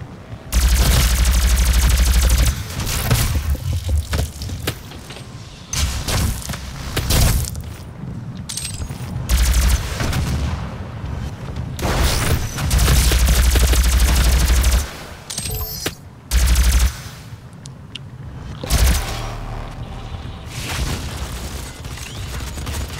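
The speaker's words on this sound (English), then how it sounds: "I just shot like half a magazine into this person." Loud bursts of automatic gunfire and explosive booms from the DOOM open beta multiplayer, coming in repeated volleys separated by brief lulls, with little talk over them.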